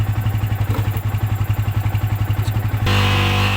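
Yamaha Vixion motorcycle engine running with a steady, rapid pulsing beat as the throttle is opened, then the tone shifts abruptly into a louder, denser roar near the end, close and loud with no talk.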